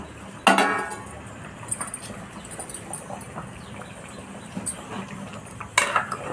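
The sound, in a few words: stirring fish curry in a pot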